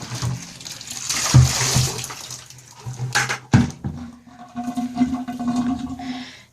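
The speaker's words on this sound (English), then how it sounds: "dump the bucket." A bucket of water used for hand washing cloth diapers is tipped out, giving splashing, gushing pours in a couple of surges with a sharp clunk midway, then trickling and draining, close by with no speech.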